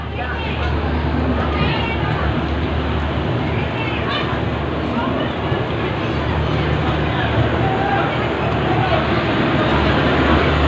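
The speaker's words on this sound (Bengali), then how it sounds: "তো আমাদের ট্রেনটা ছেড়ে দিল অলরেডি" A passenger train leaving Kolkata for Lucknow Junction produces a loud, steady rumble and rattle that fills the whole stretch without letting up, with a faint murmur of voices mixed into the noise.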